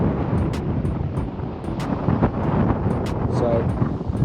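Strong wind gusting over the microphone outdoors on a beach, a dense continuous roar with brief clicks and a voice speaking underneath.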